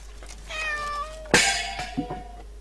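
A cat in the horror video game Layers of Fear: Inheritance gives a clear, drawn-out meow, followed by a sharp clang and a few softer knocks.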